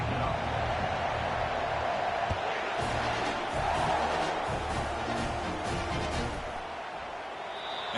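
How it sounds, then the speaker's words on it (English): Football stadium crowd at an Aggies game, a loud continuous roar of many voices with scattered shouts and thuds, sustained throughout and easing a little at the end. "Listen to the crowd energy here in the early going."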